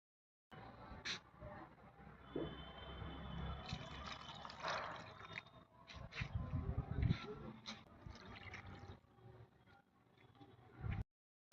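Rice-washing water is poured onto potted flowering plants, a quiet, uneven trickle and splash that runs for about ten seconds before stopping.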